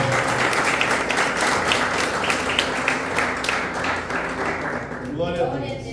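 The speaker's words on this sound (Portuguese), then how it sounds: "Você pode aplaudir o Senhor por essa palavra?" Church congregation applauding the Lord after a sermon at an emotions conference, dense loud clapping throughout, with a voice rising briefly near the end.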